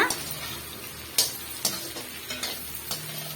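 Vegetables and chicken for egg chicken noodles sauté in a pan, with a soft steady sizzle broken by several sharp spatula scrapes and knocks at irregular intervals.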